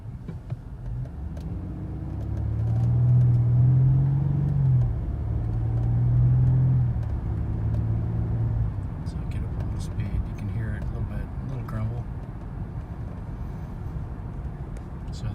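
A car fitted with a new aftermarket exhaust, heard from inside the cabin while coasting, gives a low steady rumble that swells briefly and then settles, with a voice talking over it toward the end.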